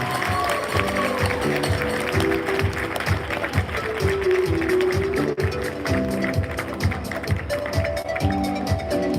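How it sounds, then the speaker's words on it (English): Guests at a wedding reception give the newly married couple a big round of applause, a sustained, lively clatter of many hands over background music and scattered voices, holding strong for the whole stretch. "how about a big round of applause?"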